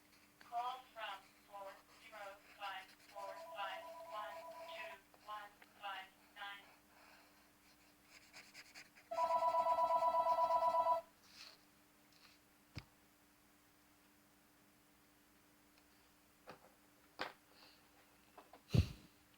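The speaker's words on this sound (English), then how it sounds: "So yeah, sorry about that phone call," A phone rings once in a burst of several pulsed electronic tones, fairly loud and close, after a stretch of indoor talk, with quiet room sounds and a few clicks following.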